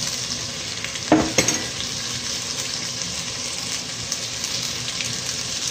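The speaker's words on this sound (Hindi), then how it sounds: "ये मसाला पहले फ्राई कर लेते हैं, फिर इसमें लस्सी डालेंगे।" Spice masala with onion and tomato fries in a pan for karhi, giving a steady close sizzle throughout, broken early by a couple of sharp clinks of utensils stirring.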